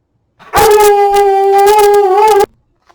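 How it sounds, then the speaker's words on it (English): A pet dog lets out one sustained, loud, close howl lasting about two seconds, steady in pitch with a slight wavering at the end, alone with no talking around it. "My dog was going off, as you can probably still hear."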